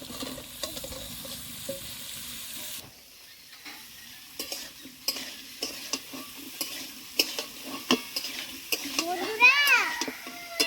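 Potato and eggplant frying in turmeric-tinted oil, a soft close sizzle with stirring scrapes and clicks that grow busier toward the end, while people talk over it.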